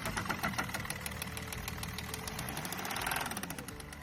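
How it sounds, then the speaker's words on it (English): A Volkswagen Beetle engine runs steadily at idle with a rough, knocking, truck-like clatter, fairly faint and continuous throughout. "this customer came in because they think their engine sounds too much like a truck"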